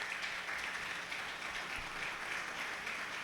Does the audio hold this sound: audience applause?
yes